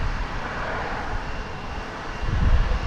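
An American Boeing 737-800 jet airliner at DFW airport gives a steady, broad engine roar that holds for three seconds and swells slightly near the end. No one speaks over it.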